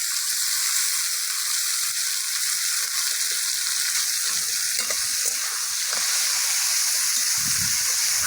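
Green chillies added to vegetables frying in a pan give a loud, continuous close sizzle, with occasional stirring scrapes and light clicks of a spoon against the pan.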